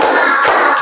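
Group of Indonesian schoolchildren in a classroom doing a counted clap chant, a dense burst of many hands clapping together, loud and close, with no voices.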